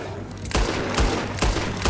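Gunfire in the video game Red Dead Redemption 2: a loud, sharp shot lands at about half a second, followed by two more spaced shots over a steady background din.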